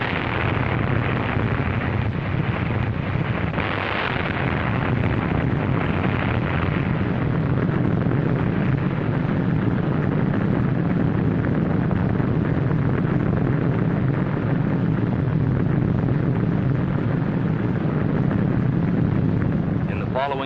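A 1946 Operation Crossroads atomic bomb test blast delivered from a bomber, heard as a sustained roaring, wind-buffeted rumble that swells early on and stays loud and dense throughout.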